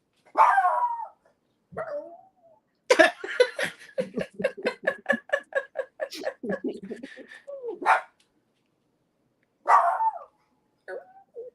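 A dog barks in a rapid run of sharp, evenly spaced barks in the middle, with a few whines and yips before and after.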